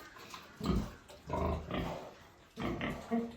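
Low, rough grunts come in three or four bursts, close by, with no talking.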